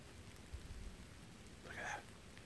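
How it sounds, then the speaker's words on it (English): Rain falls in the Erie Forest at night as a faint, steady patter with low rumbling, and a brief brighter noise rises near the end; no voices are heard. "Just me, you guys, and this rain. It's actually raining."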